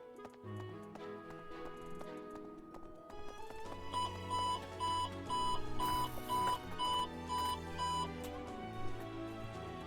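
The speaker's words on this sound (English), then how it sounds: "Turn that damn alarm clock off." An alarm clock in Fire Emblem: Three Houses rings in a rapid run of repeated electronic beeps over layered game music and clip-clopping hooves.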